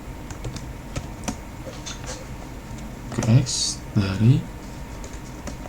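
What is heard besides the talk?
typing on computer keyboard, pressing enter in R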